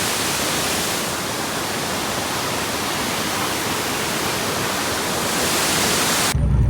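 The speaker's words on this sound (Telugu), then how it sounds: "ఇదిగోండి గాయస్ హిడెన్ వాటర్ ఫాల్స్ చూడండి" A hidden waterfall deep in the jungle gives a steady, loud broadband rush of falling water that holds even and unbroken throughout, with no voices over it.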